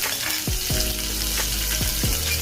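Green chilies fry in hot oil in a pan for Punjabi dhaba-style bhindi masala, giving a steady close sizzle with a few sharp crackling pops over a short stretch.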